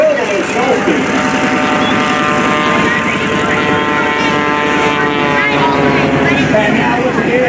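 A loud, steady propeller engine drone from an aerobatic airplane hanging nose-high in the sky at the 2019 Leesburg Airshow, its pitch wavering slightly, with a voice talking over it throughout.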